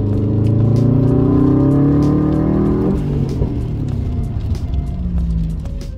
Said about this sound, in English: I'm gonna bring up the RPMs and let you guys know what it sounds like.